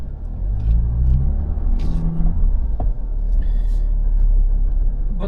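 A GWM Cannon Alpha PHEV ute, stuck and rocking back and forth at full throttle, gives a steady loud engine and drivetrain rumble that swells and eases, with brief clunks and scrabbling from the tyres.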